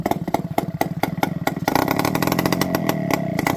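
A Yamaha Trailmaster engine after a carburetor clean and new spark plug, cranking with loud, spaced chugs, then catching and running at a rapid, steady putter close by, with no talk.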